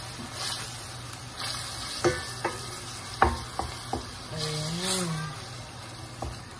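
Beef frying in a hot pan for qeema while a utensil stirs it, giving a steady sizzle with several sharp scraping knocks and clacks scattered through the mix.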